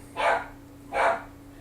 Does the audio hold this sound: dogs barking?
yes